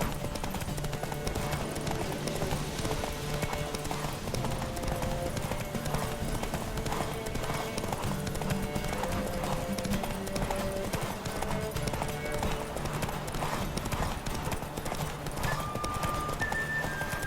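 Hooves of a horse in The Witcher 3: Wild Hunt pound in a fast, steady galloping rhythm, continuous and close, with occasional voices and music underneath.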